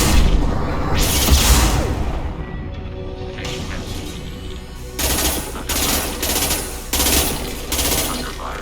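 Gunfire in the video game Mass Effect 2, with loud bursts of automatic weapon fire and whooshing shots in repeated pulses over a dense battle din, with voices calling out amid the shooting.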